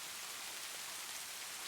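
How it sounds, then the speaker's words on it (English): Rain falls steadily outside a window with a copper rain chain hanging by it, a soft, dense patter of drops with no voices. "The rain chain hanging just outside the window created a subtle counter-melody to the broader symphony of raindrops."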